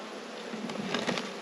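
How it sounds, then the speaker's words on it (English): Honey bees buzz in a rescue hive, a close, steady hum swelling briefly as individual bees pass near. "Let's check out these bees."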